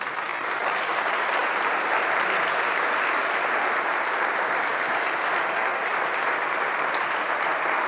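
A congregation at a live evangelical church service applauds steadily and loudly, a thick unbroken wash of many hands clapping for the full eight seconds, with no voices standing out.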